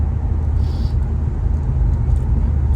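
Engine of a 1972 Plymouth Roadrunner shifting through its gears, a loud, deep, continuous rumble heard from close by and holding steady throughout.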